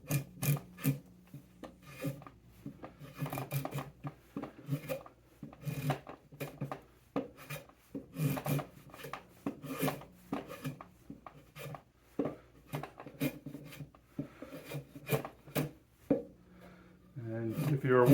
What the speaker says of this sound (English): this is my first woodworking project with the draw knife